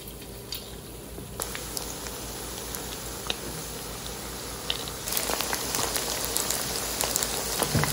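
Pieces of chicken 65 fry in hot oil with a fine crackling sizzle that grows denser and louder about halfway through as more pieces go in.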